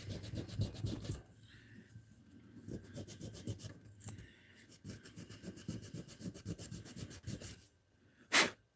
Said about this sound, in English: sand this down a bit more.